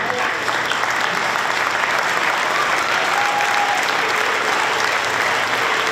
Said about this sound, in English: You deserve all of the like accolades and applause that you are getting tonight